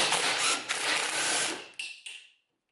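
Half-inch nut being unscrewed from a bolt on a garage door opener rail: a close, continuous ratcheting buzz for about two seconds, ending in a couple of short clicks before going quiet.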